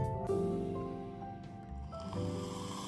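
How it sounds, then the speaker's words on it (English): Hot water from a kettle at about 91 °C is poured into the boiler chamber of an ALM KOPI espresso machine, a soft quiet trickle and gurgle running continuously with faint hollow resonance, no speech. "So I'll pour the water like that"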